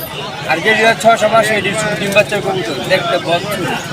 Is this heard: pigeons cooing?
yes